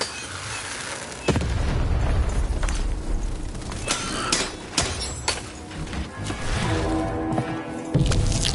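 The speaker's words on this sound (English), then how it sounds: "The Baroness now has 3 cannons." Cannon fire in the Lost in Random video game: heavy booming explosions and bursts at irregular intervals over a continuous rumbling mechanical din, loud and close.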